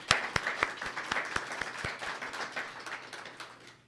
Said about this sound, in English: I think that we owe them a big round of applause